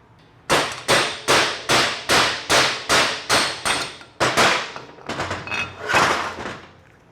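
A Ford AOD automatic transmission pump bushing being driven out with a hammer: about ten sharp, evenly spaced metallic blows close by, followed by softer, irregular knocking.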